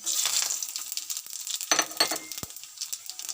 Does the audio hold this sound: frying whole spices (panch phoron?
yes